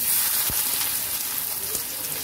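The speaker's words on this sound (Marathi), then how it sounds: "आता मी तेल तापत ठेवलेलं आहे आणि इथे आपण काय करूया, आता कांदा घालूया" Chopped onion frying in hot oil in a pan, a steady dense sizzle with a brief thump near the start, close and fairly loud throughout.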